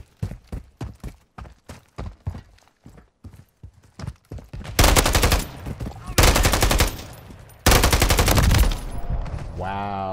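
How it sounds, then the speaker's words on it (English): Automatic weapon fire in Modern Warfare III (2023) invasion-mode gameplay: a string of quick, evenly spaced single shots, then several long, loud, sustained bursts close by. "That's one powerful weapon."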